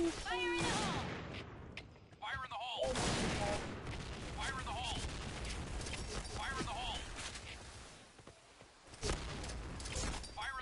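Sharp gunshots crack out in scattered bursts over Point Blank game sound effects, with voices talking in between.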